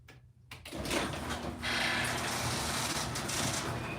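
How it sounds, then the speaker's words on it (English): A garage door is pulled open indoors, a sudden mechanical rumble after a brief quiet that continues as a steady, fairly loud rolling roar for several seconds. "Let me get this garage door open up."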